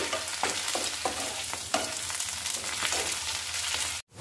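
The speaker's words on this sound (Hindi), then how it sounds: "बस अच्छे से इसको पलटा पलटा के आप इस तरीके से गोल्डन ब्राउन होने तक पका" Taro (arbi) pieces fry in a pan under a dense, bright sizzle, with rhythmic stirring scrapes pulsing through it, before the sound cuts off abruptly near the end.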